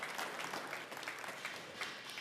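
Brief, fairly faint applause from a studio audience welcoming panel guests on a Hindi television political debate show, a steady patter of clapping.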